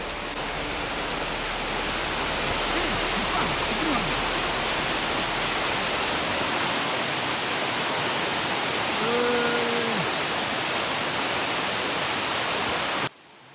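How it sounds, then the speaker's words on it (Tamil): A forest waterfall in Kerala roars as a dense, steady wash of falling water, loud and continuous, with a few faint tonal calls or voices briefly poking through before it cuts off near the end. "நம்ம காதுக்கு தண்ணீர் விழுகிற சத்தம் வந்து நல்லாவே கேட்டுச்சு"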